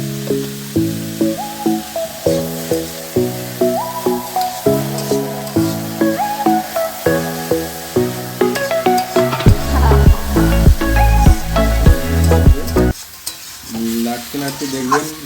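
Bottle gourd and prawns stir-fried in a pan with salt, giving a steady loud sizzle broken by rhythmic scraping stirs, with background music playing throughout.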